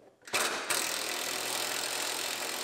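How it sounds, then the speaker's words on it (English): A ratchet wrench turns out the U-bolt bolts holding a car's bumper absorber on a Grand Am, giving a close, steady rapid clicking that starts abruptly and runs continuously. "We get the two bolts out of our U-bolt that holds our absorber on."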